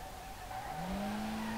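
Car drifting in the racing game Street Legal Racing Redline, engine humming steadily as a tire squeal rises and holds, sliding louder toward the end with no talk.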